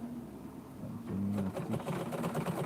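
A sewing machine stitches a bespoke leather loafer, its steady mechanical whirr running close and continuous, growing louder partway through.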